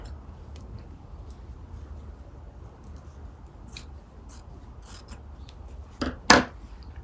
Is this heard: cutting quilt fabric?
yes